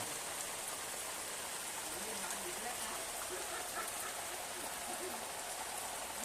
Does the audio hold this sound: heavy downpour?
yes